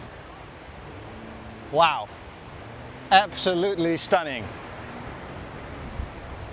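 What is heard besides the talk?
waves at the main beach of Koh Samet, Thailand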